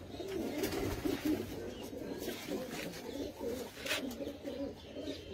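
Pigeons at a Punjabi loft give continuous low, throaty cooing in repeated rolling phrases, fairly close, with light background noise and a few higher chirps.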